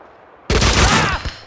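Sudden loud burst of gunfire in the Max Payne 2 video game, a dense rapid volley of shots erupting after a brief quiet moment.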